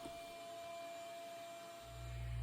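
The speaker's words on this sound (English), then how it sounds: "Now, after I vacuum this," A vacuum cleaner runs steadily while dust is cleaned from an X-Carve CNC machine. It gives a continuous mid-level whine with a low rumble that swells near the end, and no one speaks.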